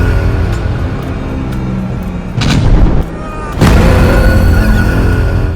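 Bomb blast in a Telugu police short film trailer: loud, dense rumbling explosions with two sharp booming hits standing out, over a heavy continuous roar.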